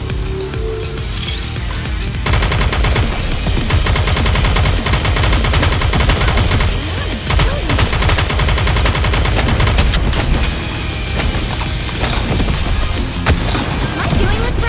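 Sustained automatic gunfire in the mobile shooter Goddess of Victory: NIKKE, a loud, dense mechanical rattle with clicking reload sounds, continuous for most of the stretch with brief voices mixed in.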